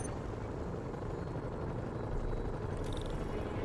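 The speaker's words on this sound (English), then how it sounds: "Bet I can use those helicopters to swing." Helicopters in the video game Marvel's Spider-Man, a continuous whirring rotor drone with a muffled low rumble, steady and moderately distant with no talk over it.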